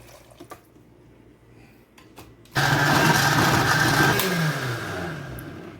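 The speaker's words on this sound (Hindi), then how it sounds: "अब हम इसको ग्राइंडर में डालेंगे और ग्राइंड करेंगे।" After a few soft clicks, an electric grinder switches on abruptly and whirs loudly and steadily as it blends pizza sauce with a little added water, close by.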